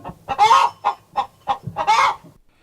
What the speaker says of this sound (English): He enjoyed watching the pigs getting dirty and the chickens running around in